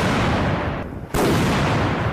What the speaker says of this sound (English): King of battle, the mighty artillery.